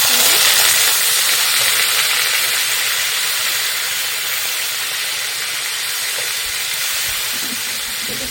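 Chopped onions, garlic and green chillies sizzle in hot oil with a loud, steady hiss that holds for the whole stretch, with no voices over it.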